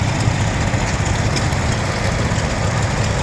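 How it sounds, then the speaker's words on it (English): Two small stationary generator sets run steadily at a vintage tractor show, a continuous low engine drone with a rumbling idle, fairly close and loud, with no talk over it. "Two little generator sets running away."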